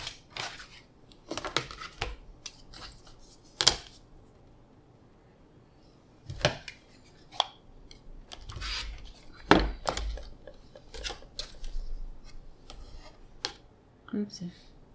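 Scissors snip and trim the fabric of a Christmas quilt-along block, Sewcialites Block 10: scattered sharp cuts and handling clicks spread irregularly, fairly close, with quiet gaps between.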